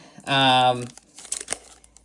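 A glued Pokémon card pack is cut open with scissors, a short loud crinkling burst of foil packaging followed by a few fainter rustles and snips.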